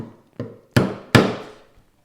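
A chisel chops a tiny mortise in wood for a French marking gauge, producing one soft knock followed by two sharp, resonant thunks with short decaying rings, close and alone.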